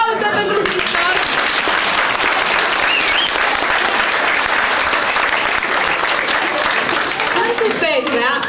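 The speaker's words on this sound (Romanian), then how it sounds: "Aplauze pentru Hristos." An audience claps loudly and continuously throughout, a dense, steady wall of applause in an indoor performance, with voices faintly audible at the edges.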